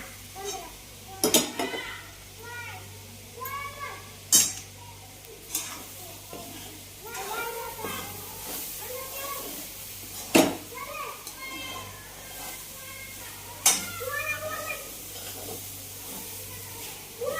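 Carrot halwa stirred with ghee in a pan gives soft, repeated scraping and sizzling with occasional sharp clinks of the spoon against the pan, heard under ongoing talk from adults and a child.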